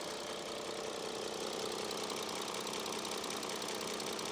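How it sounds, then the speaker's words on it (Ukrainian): An Audi A6 Allroad Quattro engine idles steadily, a close, even mechanical hum with a faint rapid ticking, no voices. "Мотор працює чітко, рівненько"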